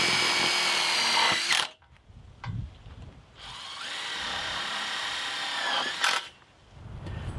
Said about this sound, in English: We're just going to take one of these self-tapping screws and put it where each of the sections of pipe